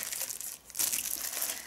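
Small plastic packets holding compact RGB-lit speakers crinkle as they are handled close by, a short dip before a longer stretch of bright, continuous rustling.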